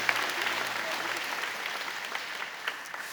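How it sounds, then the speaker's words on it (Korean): A church congregation claps in welcome during a Sunday worship service, a steady, moderately loud patter of many hands filling the room and tapering slightly toward the end. "크게 박수로 환영하시죠"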